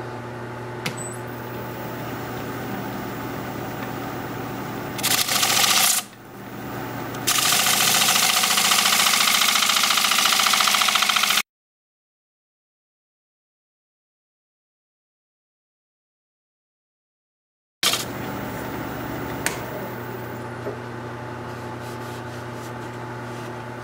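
A wood lathe spinning while the inside of a spalted alder bowl is turned, a steady loud motor hum with the rub and scrape of the tool on the wood. It cuts out to silence midway, then resumes.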